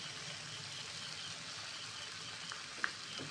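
Steady, soft sizzle of Kashmiri aloo dum simmering in a pan, potatoes in a spicy curry with cashew and poppy seed paste, made without onion or garlic, as it is stirred, with one sharp utensil click near the end.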